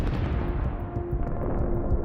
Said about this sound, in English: Look at the force of the explosion.